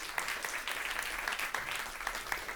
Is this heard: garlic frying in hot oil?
no